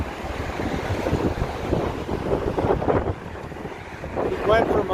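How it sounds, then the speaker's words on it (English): Strong wind buffeting the microphone outdoors, a constant loud rumbling roar with gusty surges, and a voice faintly audible beneath it near the end. "I'm sorry about the wind,"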